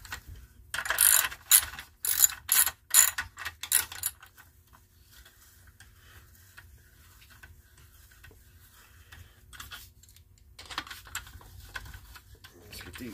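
A ratchet snugs down the head bolts of an old lawnmower engine in a star pattern, giving quick clicking bursts up close for a few seconds, then a long quiet stretch before softer clicking resumes.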